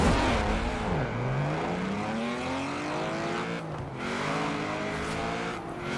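A race car engine in Forza Horizon 4 on a drag strip revs up through rising gears, the pitch climbing, dropping at a shift, then climbing again, loud and continuous with no talk.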